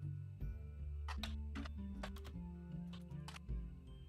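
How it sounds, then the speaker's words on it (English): Clacky, typewriter-like keyboard typing in The Roottrees are Dead video game, a steady run of close key strikes with small pauses, heard alone without talk. "Why does our keyboard sound like a typewriter on a computer?"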